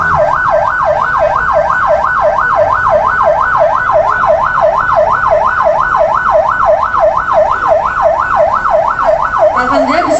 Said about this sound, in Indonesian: Semoga 1 unit ambulans ini membawa manfaat yang luar biasa ya Ustadz Angga